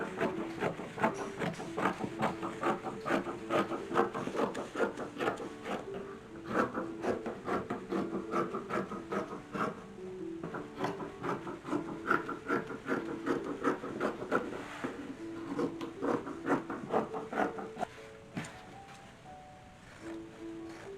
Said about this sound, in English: So I have this lovely ice blue silk, and I'm just going to cut out the exact same amount of pieces.